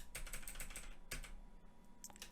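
Ctrl+J pressed on a computer keyboard while building card news in Photoshop: a short run of close, clicky keystrokes, then a single sharper press and a few light taps, with no voices.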